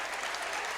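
A crowd roars and claps at a boys' regional final high school basketball game between Stratford and Neillsville, a loud, dense wash of cheering heard in a brief burst with no clear talk.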